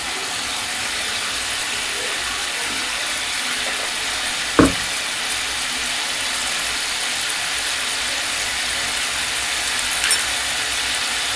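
Turmeric and chili powder frying in a pan with a little water give a soft, steady sizzle throughout, broken by one sharp click midway and a faint tap near the end.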